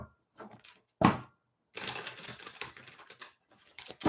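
Tarot card deck shuffled during a live psychic reading, giving short papery riffle bursts with pauses, then a longer rustling run of cards, fairly close and alone.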